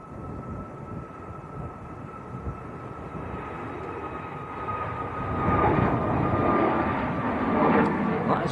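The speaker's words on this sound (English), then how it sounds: "That is a Ryanair to Prague." A Ryanair airliner bound for Prague roars at Manchester Airport on a windy day, its engine noise building and growing louder toward the end, while people talk nearby over the wind.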